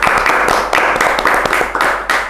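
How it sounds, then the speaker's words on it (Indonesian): Loud, close clapping for a guest at a stage event, bursts of hands in a quick uneven rhythm over a heavy low background hum, cutting in and out in short pulses. "Tepuk tangan untuk Mister Puisi."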